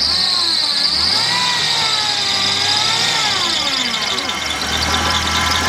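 A 1996 Dodge Intrepid engine idles steadily at close range, a thin whine from its alternator riding high above the low engine rumble throughout.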